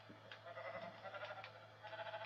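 Sheep bleating in the video game Minecraft, a continuous wavering bleat layered over steady game background sound at low level, with no talking.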